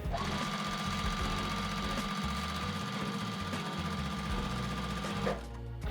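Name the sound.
sewing machine sewing quilt pieces together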